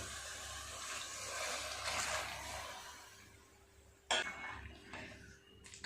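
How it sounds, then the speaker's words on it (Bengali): Curry broth poured into a pan of fried five-spice seeds, a soft wash of liquid pouring at close range, followed by a sharp clink of a utensil against the pan and a few quieter knocks. "পাঁচ ফোড়নটাও ভেজে নিয়েছি ঢেলে দেবো ঝোলটা"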